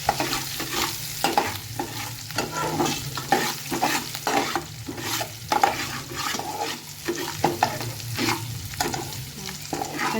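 Upma ingredients are stirred in a hot pan, the spoon scraping in a steady, repeated rhythm over continuous frying sizzle, loud and close, with no one talking.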